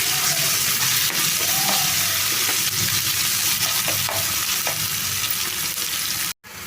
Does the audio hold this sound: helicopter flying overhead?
no